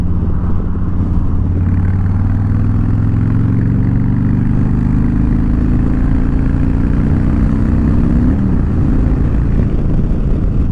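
A Harley-Davidson Low Rider S with the 114 engine cruises on a highway, its steady low engine drone and wind rush filling the whole stretch, with a gear change and pitch shift near the end.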